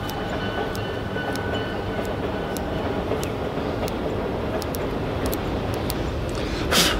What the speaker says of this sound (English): Oh, we got a train coming by.